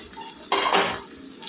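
Masala fries in a pan for chicken curry: a brief metallic scrape of a utensil against the pan rises over a soft background sizzle.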